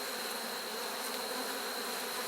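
Honey bees buzz at an opened hive, a dense, continuous close-up hum holding steady throughout with no talk.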